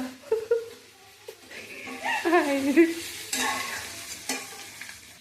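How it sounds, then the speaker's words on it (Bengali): Chilli chicken is stir-fried in a pan, with uneven scraping stirs over a soft sizzle and brief voices and laughter nearby. "দেখো চিলি চিকেনটা দিয়ে একটু কষিয়ে নেওয়া হচ্ছে।"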